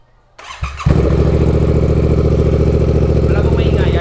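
A motorcycle engine starts up and settles into a steady, loud, rumbling idle close by, running continuously after a brief cranking sound.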